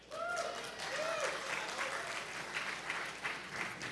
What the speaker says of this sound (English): And that deserves an applause